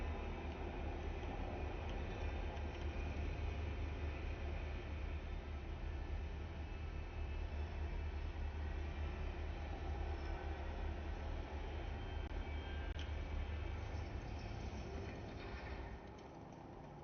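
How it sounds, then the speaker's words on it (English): Elevator moving in the Star Citizen video game, a steady rumbling, rail-like mechanical drone held at even loudness for most of the stretch before it drops away abruptly near the end. "I get some sound for the elevator moving and then it cuts out to nothing."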